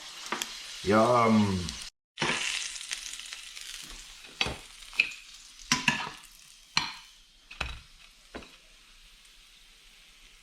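Floured ormers, or abalone, frying in a pan outdoors on the coast, with a soft sizzle under scattered scraping and clinking from a utensil, plus a brief spoken word partway through.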